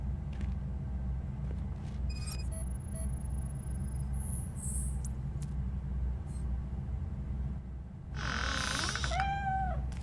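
A cat meows twice in the video game RoboCop: Rogue City, a short high call early on and a longer wavering meow near the end, over a low steady game rumble with faint scattered effects.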